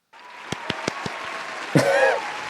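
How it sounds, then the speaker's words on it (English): Four or five sharp, evenly spaced hand claps ring out in a quiet room, followed by a person speaking briefly afterward. "Insert clapping sound effect."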